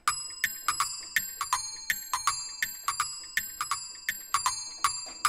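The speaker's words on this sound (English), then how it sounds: "It's a bell." Bright metallic bell strikes from the bear automaton of the UVI Toy Suite virtual instrument, about two dozen ringing dings in a quick, slightly uneven rhythm, each with a short shimmering decay, played alone and close.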